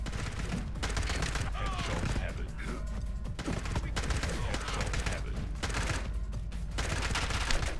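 Heavy gunfire fills the shooter video game The Club, with dense, continuous fusillades and rapid bursts layered over loud game noise throughout.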